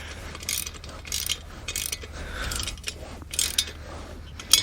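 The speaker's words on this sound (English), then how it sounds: "catch this locking nut here in my wrench, and then we're gonna start turning these guys and tighten this thing up" A wrench turns a bolt through a locking nut while assembling a truck hitch game hoist, giving repeated close ratcheting clicks and metallic rattles in short bursts.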